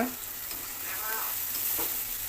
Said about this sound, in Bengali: আর এটাকে ভালো করে কষে নিচ্ছি